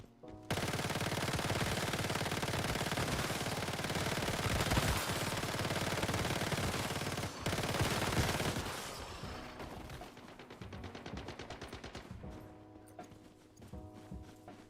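Video game gunfire, a dense, loud wall of rapid continuous shots lasting several seconds, then trailing off into scattered rhythmic bursts and quieter clattering.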